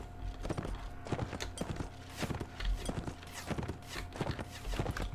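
Horse hooves galloping in the Mount & Blade Warband video game, a steady stream of quick, rhythmic clip-clop hoofbeats at moderate distance with faint battle ambience behind them.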